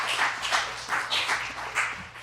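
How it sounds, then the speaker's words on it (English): Audience clapping for panelists at a live talk event, a modest round of applause with scattered claps swelling and fading over a couple of seconds, moderately close. "a round of applause for Asante and Abby"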